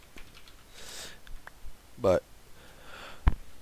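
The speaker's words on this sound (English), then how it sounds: "I just gotta keep blowing my nose here a little bit." A person sniffs and gives a short nasal snort, with faint clicks and keyboard taps between a brief spoken word.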